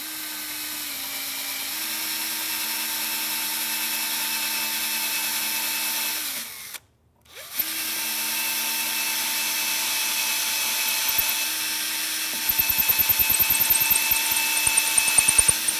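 Power drill whirs steadily while boring holes for metal fence post connectors, a loud sustained high whine that stops briefly, restarts, and ends with a rattling chatter.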